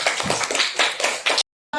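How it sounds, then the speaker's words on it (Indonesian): A class of students clapping hands in unison, a quick run of about six rhythmic claps, close and bright, followed by a brief silence and the start of a tonal sound. "Tepuk tangan dulu."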